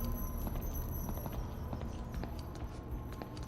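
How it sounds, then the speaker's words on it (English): Heavy footsteps of a giant boar in the horror video game DreadOut thud in an irregular, plodding patter over a constant low ambient drone, faint and somewhat distant. "I think I hear the pig coming back around"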